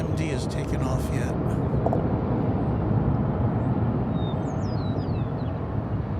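An airliner flying at DFW Airport makes a continuous low jet rumble that stays fairly loud and even, with bird chirps and some faint background chatter over it.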